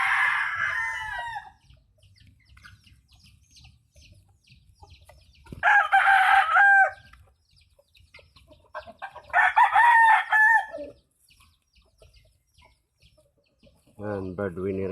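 A purebred Peruvian gamecock rooster on a provincial poultry farm crows three times in loud, close, drawn-out calls spaced several seconds apart, with quieter gaps between them and a short final call at the end.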